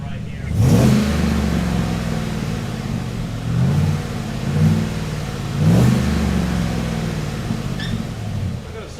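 A V8-swapped Chevrolet Colorado revs through a quiet titanium exhaust: a deep idle rumble with three strong throttle blips rising and falling, close and loud.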